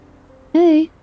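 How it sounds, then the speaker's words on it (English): One short, steady electronic phone tone sounds alone in the Love and Deepspace video game as a call is dialed. "After a few minutes, I finally pull my phone and dial Caleb's number."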